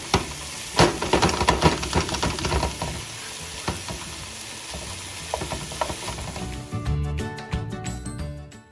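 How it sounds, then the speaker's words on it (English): Ground beef sizzles and crackles in a hot large skillet, with steady frying hiss and occasional scraping stirs, close up and fairly loud. "In a large skillet, you want to brown your meat."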